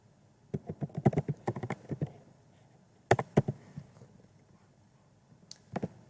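Someone types on a computer keyboard nearby, with quick bursts of soft keystroke clicks, a pause, another short flurry, then a few final taps in an otherwise quiet room.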